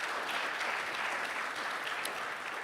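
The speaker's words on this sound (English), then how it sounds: "can we give them a round of applause of welcome" Conference audience applauding to welcome a panel at a forum session, steady dense clapping at an even level throughout with no pauses.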